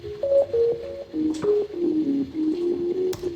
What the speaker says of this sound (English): Like I added a whole lot of reverb.